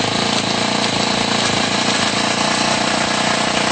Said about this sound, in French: On va garder la moto un peu accélérée.